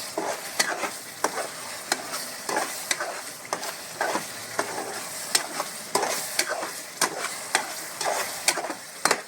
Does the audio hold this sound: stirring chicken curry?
yes